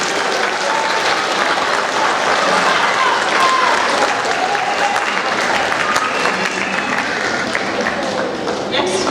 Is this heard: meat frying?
no